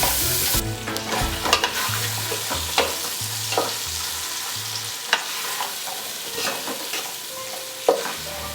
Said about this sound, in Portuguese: E vou dar uma fritada nessa linguiça antes de continuar colocando os outros ingredientes.